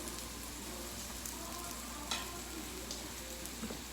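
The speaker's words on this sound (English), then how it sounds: "go ahead and just mix this up, stir it up a little, get those spices cooked in" Shrimp fajita mixture with spices sizzles quietly and steadily in a pan, with soft intermittent scraping and stirring from a utensil, faint and close, with no voices.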